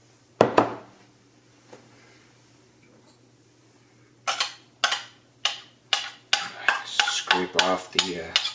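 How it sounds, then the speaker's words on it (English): Spoon stirring red lentil soup in a pressure cooker pot: a couple of sharp knocks, a pause, then a run of rhythmic scraping clinks against the metal, close and clear with no talking. "Just going to give it a quick stir."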